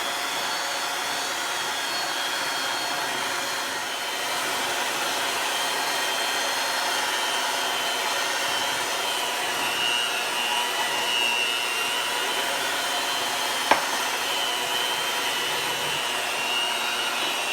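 An electric mixer beats tres leches cake batter with a steady, moderately loud whirring drone, running continuously with no talking and one brief click partway through.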